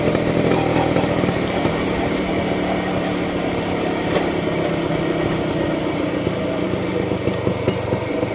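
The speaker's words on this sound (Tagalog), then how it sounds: "Bung, bung, bung, bung. Galing ng pipe oh." A 1991 Kawasaki HD3 motorcycle running with a loud exhaust pipe, a steady, continuous engine roar heard up close throughout, with no obvious breaks or talking.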